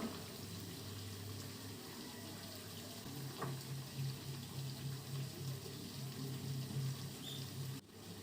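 A pan of mango pickle made from frozen mango, freshly topped with panch phoron, is stirred as it cooks in oil, giving a quiet, steady sizzle with a few soft scrapes and taps of the spoon.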